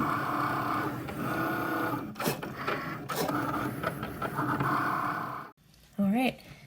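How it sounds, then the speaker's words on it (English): A Cricut cutting machine cuts print-then-cut stickers, giving a close, steady mechanical whir and rubbing carriage movement with a few sharper scrapes, ending in a short rising motor tone as it finishes. "All right, the Cricut is done cutting."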